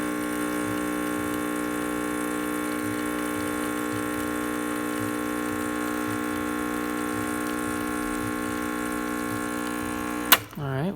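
A Rancilio espresso machine pulling a shot while leaking around a worn group head gasket gives a steady, fairly loud pump hum with a pulsing low throb. It runs alone for about ten seconds before a sharp click and a change in tone.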